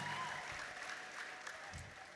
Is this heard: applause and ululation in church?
yes